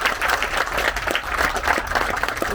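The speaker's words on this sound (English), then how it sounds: "Big round of applause." Audience applause after a talk at the GoPro Arena, steady broadband clapping from a sizeable crowd sustained throughout, loud and continuous with no pauses.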